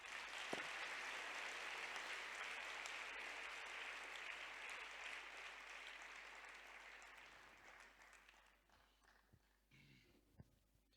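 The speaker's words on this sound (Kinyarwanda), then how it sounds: "reka twongere Imana amashyi" Congregation applauding at a worship gathering, a broad wash of clapping that starts strong and slowly fades out over several seconds, faint and distant, with a few scattered claps and thumps at the end.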